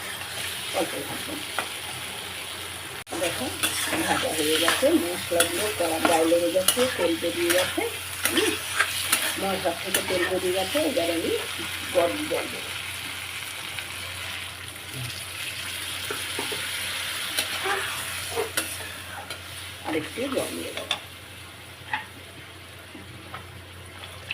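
Whole spices sizzle in a pan while a utensil stirs and scrapes during cooking of a soybean dish, with clinks and light clatter over a continuous frying hiss.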